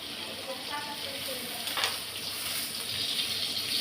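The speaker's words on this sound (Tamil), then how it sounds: "கூடவே மஞ்சத்தூள் போட்டுக்கிடலாம். வதக்கிக்கிடலாம்." Tomatoes and turmeric sautéing in a pan for a tomato kulambu, giving a steady close sizzle and frying hiss with light stirring throughout, no voices over it.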